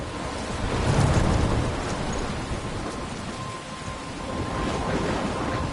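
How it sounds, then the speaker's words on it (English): Thunderstorm in the video game Life is Strange: a rolling rumble of thunder over a continuous wash of heavy rain, swelling early, then easing before building again, with no talk. "I'm trapped in a storm?"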